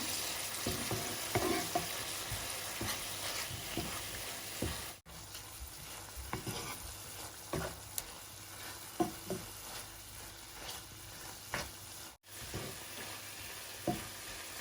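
Rib-eye beef for a creamy penne sauce sizzles in a pan after a splash of water, a steady close crackle broken by spoon scrapes and stirring, with two brief dropouts.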